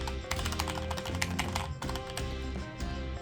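Someone types quickly on a HyperX Alloy Core Origins TKL keyboard with quiet tactile switches, making a dense, steady run of soft close-up key taps with no pauses.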